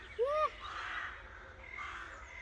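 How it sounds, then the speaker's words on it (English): A single loud crow caw rings out near the start near a Norman church in England, followed by a softer, distant cawing blending into outdoor background noise. "Crows."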